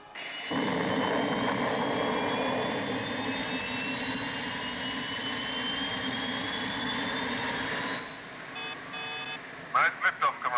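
A spacecraft lifting off gives a loud, steady roar with a rising whine that runs for about eight seconds, then cuts to quieter tones, bleeps and short bursts at the end.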